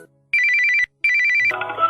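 Telephone ringtone with two bursts of rapid electronic trilling separated by a short pause, followed by a different busier tone at the end, clear and close with no talking.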